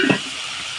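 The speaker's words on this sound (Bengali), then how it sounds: "হালকা হাতে নেড়ে দেবো" Bombay duck fish sizzles in a pan with tomato and onion, with a short scrape of stirring at the start followed by a steady, close frying hiss.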